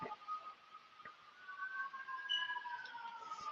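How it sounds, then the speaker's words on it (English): Distant city sirens drift through an Atlanta night after midnight, a faint wavering wail rising and falling over quiet background hum with no one talking. "we're getting the sounds of the city, sirens and gunshots"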